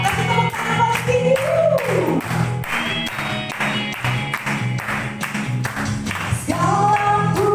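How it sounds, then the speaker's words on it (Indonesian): A church congregation claps in strong rhythmic beats for several seconds, the claps sounding together alongside loud worship music and singing. "Kasih tepuk tangan paling tinggi"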